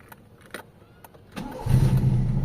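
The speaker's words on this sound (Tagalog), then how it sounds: "start natin yung makina" A Toyota Corolla with a 2E engine cranks briefly and catches on the first try, then settles into a loud, steady low rumble close by, after a few quiet clicks and knocks.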